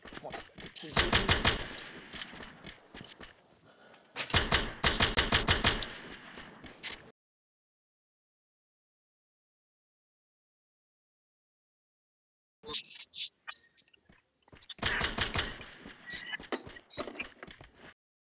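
Bursts of rapid automatic gunfire from the Free Fire Max mobile battle game, two loud sustained volleys, then a long silence before another burst of shots.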